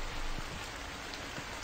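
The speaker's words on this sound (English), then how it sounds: "you gotta go to work in the rain" Steady rain falls in a horror video game set at a convenience store at night, a dense continuous hiss with soft patter and a few faint drops, no voices.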